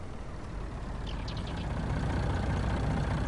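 Loud tractor engine in Farming Simulator 19, a steady low diesel drone running continuously and fairly close, with a brief higher whine near the middle and no talk.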